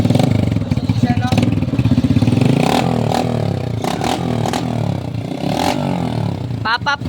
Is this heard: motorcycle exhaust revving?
yes